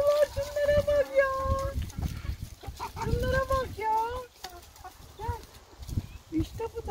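Backyard chickens cluck and squawk in short, pitched bursts while pecking at watermelon, nearby and busy, with a human voice mixed in among them.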